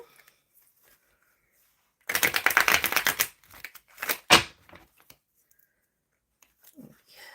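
A deck of tarot cards riffled in a quick burst of rapid fluttering clicks, followed by a sharp bridge snap and soft handling, near and otherwise quiet.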